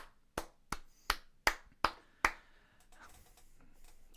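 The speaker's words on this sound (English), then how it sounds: "Everybody, let's get a big round of applause for Rhea, your new winner here tonight." Six sharp, loud hand claps in a slow, even rhythm, close by, followed by quiet background.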